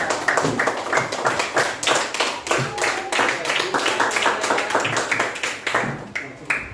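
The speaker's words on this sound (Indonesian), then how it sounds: "Ya, tepuk tangan untuk Kanaya." A group of students applauds a classmate in a school lesson with brisk, rhythmic clapping that runs continuously for several seconds, fairly close and lively, tapering off at the end.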